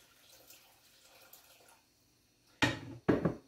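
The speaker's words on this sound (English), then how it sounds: "Then I'll go ahead and pour my 3 cups of water in." Water poured into a cooking pot while making curried chicken feet, coming as two short, loud splashing bursts after a quiet stretch, close by and with no talk over them.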